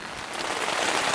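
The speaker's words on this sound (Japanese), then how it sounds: "雨が結構ひどい。" Heavy January rain at the Kurisu Enchi campsite hisses steadily on the surfaces nearby, a dense, even patter that fills the whole moment with no voices.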